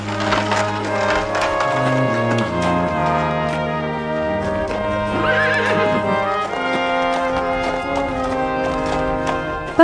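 Purebred mares neigh and whinny loudly and nearby, with long rising and falling calls that overlap one another while hooves clop and knock on wood in the background.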